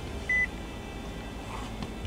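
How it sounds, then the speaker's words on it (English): A single short electronic beep sounds once over a quiet hum of background noise. "Okay, stop beeping."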